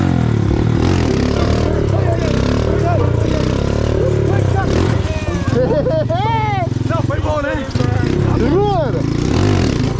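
A motorcycle engine idles and revs nearby while people talk and shout excitedly over it at a festa junina.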